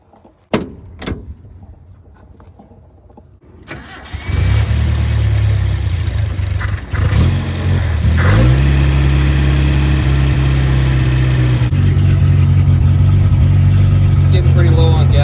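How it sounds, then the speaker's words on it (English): A Datsun 521 engine cranks and starts after a few clicks and clunks, then settles into a loud, steady close-up idle with a brief rev change partway through; a voice talks over it. "So I'm gonna start it up, let it warm up,"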